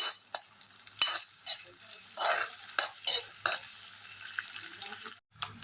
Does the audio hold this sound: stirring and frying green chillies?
yes